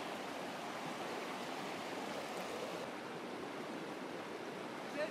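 Cataract Creek in Kananaskis rushes steadily and loudly, a dense broadband roar of flowing water with no break, close and unaccompanied.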